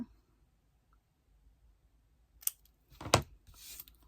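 Scissors snip paper for a scrapbook ATC card label, a few short, crisp cuts close by after a quiet stretch, with no talking.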